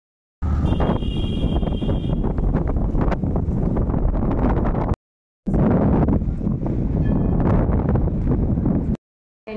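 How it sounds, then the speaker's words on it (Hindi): Strong wind blowing outdoors outside a preschool, loud roaring gusts buffeting the microphone in two long bursts separated by a brief silent gap, with no voices. "वो काफी तेज हवा चल रही है"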